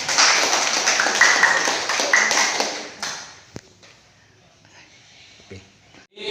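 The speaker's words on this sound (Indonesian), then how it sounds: "Tepuk tangan untuk semuanya." Classroom applause from students after group presentations, steady clapping for about three seconds that drops off into quiet rustling, with a brief voice near the end.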